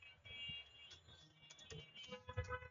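Fingers type on a computer keyboard to enter a Google search, soft, close clicks in quick irregular bursts with small pauses, quiet and without any voices.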